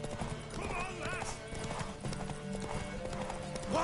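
Horse hooves clip-clopping steadily in The Witcher 3, close and continuous with a brief whinny, under background game sound and dialogue voices.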